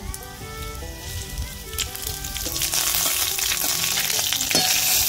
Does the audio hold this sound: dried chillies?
yes